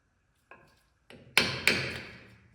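A hammer taps the metal ears of a brake pad to seat them on a buggy's brake. Four sharp, close knocks: a light one, then three louder ringing blows, the last two sounding in quick succession.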